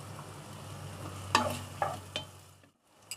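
Condiments stir-fried with salt in a wok for chikutteh: a steady low sizzle with a few sharp scraping clinks of a spatula, fairly quiet, then briefly fading out.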